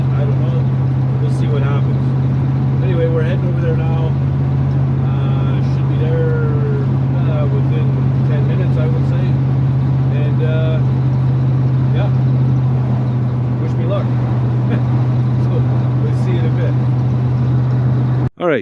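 Steady engine drone and road rumble from a truck heading down the road, continuous and close throughout, with a brief thump at the end.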